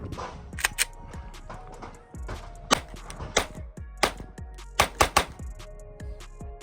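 A Glock pistol is fired at a shooting range in a series of about ten sharp, close reports, some in quick double taps and others spaced apart, with no talking.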